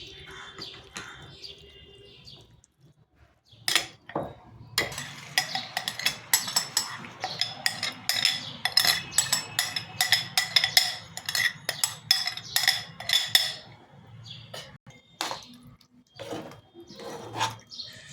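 Spiced potatoes are mixed with yogurt in a dry wok with no oil for dum aloo. A steady run of scraping and clinking from spoon against metal starts after a few seconds of quiet and carries on without talk.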